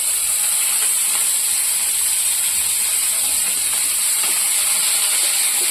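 Mustard seeds, cumin and beans sizzle in hot oil in a kadai, a steady, fairly loud hiss with faint crackle running evenly throughout and no talk.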